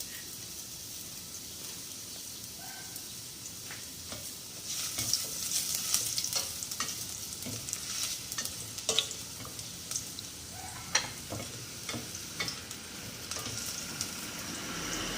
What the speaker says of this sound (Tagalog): Igisa na natin ng luya, sibuyas at bawang